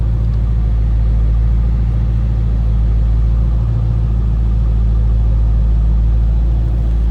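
Deep, throaty idle from the exhaust of a 2008 Ford Mustang Bullitt, a constant low rumble close by with slight pulsing and no talk over it.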